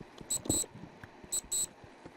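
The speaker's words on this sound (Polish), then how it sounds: "Uj, budzik pipie." An alarm clock beeps in two paired bursts of high electronic tones, a steady repeating pattern heard against quiet background noise.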